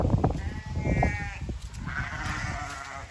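Several sheep bleat repeatedly nearby, overlapping wavering calls rising and falling against outdoor rustle.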